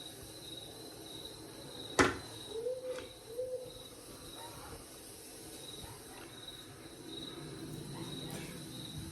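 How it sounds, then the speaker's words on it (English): An owl hoots a few times early on, faint and distant outdoors, over a steady bed of chirping crickets and low background noise. "Got a nice owl hooting in the background."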